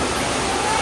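A waterfall at the Dinosaur Mountain attraction gives off a steady, loud broadband rush of falling water that fills the whole moment without a break, with voices mixed into the wash.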